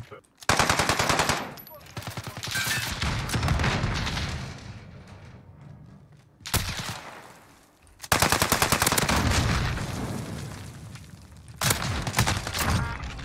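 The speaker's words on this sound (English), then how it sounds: "how are none of those shots hitting" Dense automatic gunfire from the Modern Warfare video game, long sustained bursts broken by brief pauses, loud and close, with occasional heavier booms mixed in.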